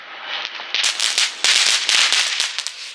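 Diwali firecrackers going off, a rapid crackling string of sharp pops that stay loud and dense throughout, with no voices.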